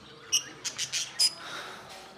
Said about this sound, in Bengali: এটা আমার আরেকটা বদ্রির কলোনি যেটা বড় খাঁচা এখানে শুধু বদ্রি রাখি আমি